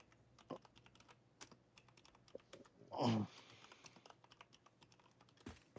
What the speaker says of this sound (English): You got a loud fucking keyboard